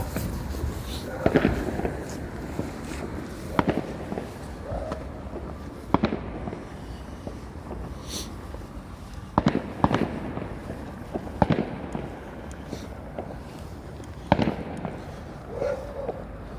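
Sharp firework cake shots pop one after another at uneven intervals, each a crisp bang over a steady outdoor hiss, with some distant crackle.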